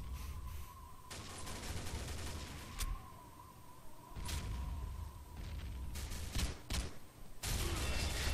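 Grenade blasts and gunfire in the Combat Arms online shooter, sharp bursts and booms scattered irregularly over a steady game drone, some loud and close, others clipped and brief.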